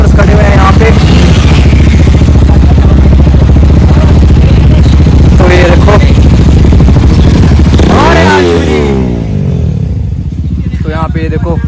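A group of bikers' motorcycles idle and rumble loudly nearby, with one engine revving up and swelling toward the end while someone talks over the din.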